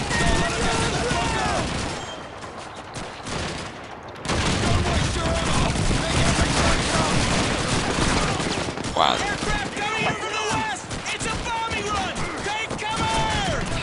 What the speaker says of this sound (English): Some kind of rifle.